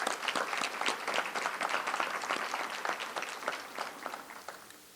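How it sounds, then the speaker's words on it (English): A meeting audience at a community gathering about a new regional medical center claps steadily, dense overlapping hand claps at moderate level that gradually thin and fade toward the end. "Let's give them a round of applause."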